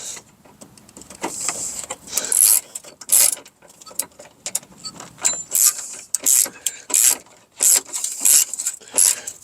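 Ratchet wrench snugging bolts on a Lexus CT200h inverter pump, heard as repeated bursts of rapid clicking ratcheting strokes with short pauses between them, close and clear with no talk.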